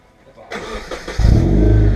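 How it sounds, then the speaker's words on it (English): A Nissan S14 engine with a new exhaust starts with a whir and then revs up into a loud, deep, rumbling roar, close by with no talking. "Give it a rev."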